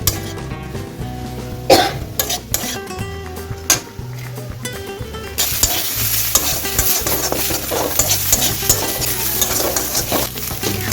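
Red amaranth greens stir-fried with garlic and onion in a pan give steady sizzling and stirring scrapes, joined partway through by a louder, brighter frying hiss, with a few clinks and a cough.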